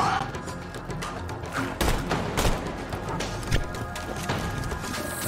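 Gunfire in the video game Borderlands 2 comes as several loud, sharp shots and thumps over a busy, noisy game soundscape.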